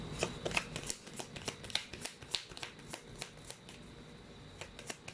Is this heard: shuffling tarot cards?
yes